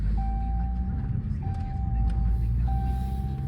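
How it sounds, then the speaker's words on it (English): A 2015 Chrysler 200 gives a low, steady rumble from inside the cabin while driving, and a thin repeating chime sounds over it. "So we in the Chrysler"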